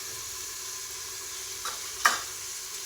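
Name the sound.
stirring and frying spices in a pan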